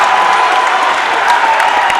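Basketball crowd in a college gym roaring with sustained cheering and applause after a dunk and foul, a dense, loud wash of voices that holds steady throughout.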